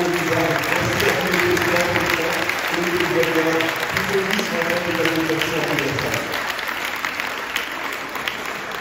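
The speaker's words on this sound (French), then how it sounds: "je voudrais que vous les remerciez par vos applaudissements" Sustained audience applause fills a hall, a dense steady clatter of many hands that gradually thins and fades toward the end, with voices murmuring underneath.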